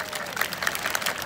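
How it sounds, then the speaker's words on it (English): Applause and cheering from a crowd at a rooftop concert, a brief burst of dense clapping with a few louder accents, fairly close and steady throughout. "Give this beautiful lady here a big round of applause."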